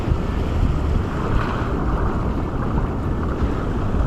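Steady ocean waves and wind rush together on a beach on Tahaa island, a continuous, even wash of surf noise with no talking.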